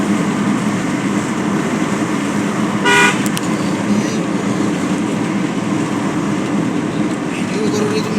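Steady roar of traffic on a highway road with one short, loud horn toot partway through, continuous engine and tyre noise throughout.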